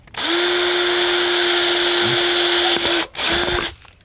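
A power drill whirs steadily at close range for about three seconds while drilling a hole in a catfish jug, stops briefly, then spins up again for a short final burst.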